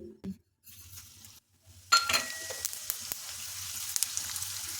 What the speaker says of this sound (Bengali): তেলটা গরম করে নিয়ে এর মধ্যে দিচ্ছি চার টেবিল চামচ গোটা জিরে